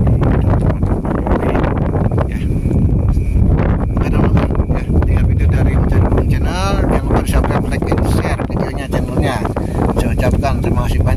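Strong wind buffets the microphone throughout, a loud, constant low roar with rumbling gusts, while someone talks underneath at night.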